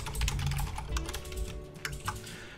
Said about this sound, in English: It only gets triggered by typing in chat.